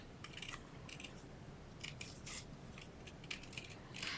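Scissors snip through cardstock for a handmade card in quick, faint, crisp cuts, several in a row with short pauses between them, heard close up in a quiet room.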